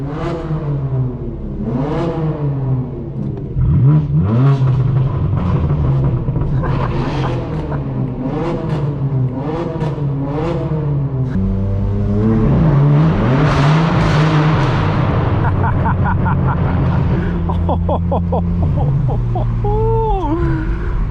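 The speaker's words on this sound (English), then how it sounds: "Once you go full throttle like that, the wastegates open up, you just hear all that inline six raspiness" Straight-piped BMW M4 F82 with an inline-six, driven at full throttle at night in Los Angeles: loud, raspy exhaust rising and falling through repeated revs and gear changes, close and continuous for the whole stretch.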